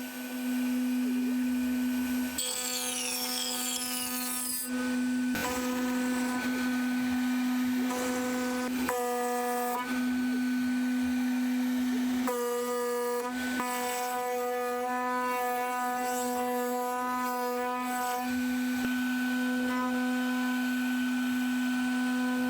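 A CNC machine carves the cherry wood of a guitar neck, giving a steady, loud whine with a strong sustained tone and shifting higher harmonics as the cutter moves, with brief pauses and changes in pitch across the pass.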